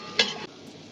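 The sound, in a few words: sauteing garlic, ginger, celery and onion in a pan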